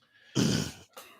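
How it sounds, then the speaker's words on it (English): A person clears their throat up close, a short harsh rasping burst followed by a brief second rasp, loud against an otherwise quiet background. "Let me clear my throat."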